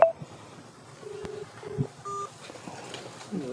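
A telephone call attempt produces a few short, faint dialing tones and beeps, separate single tones spaced unevenly over a quiet room background.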